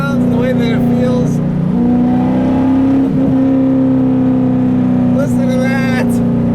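A 2000 Chevrolet Camaro SS with a manual gearbox, heard from inside the cabin as its V8 engine drones loudly on the overrun, holding a steady low rumble with slight pitch shifts and brief voice fragments at the start and end.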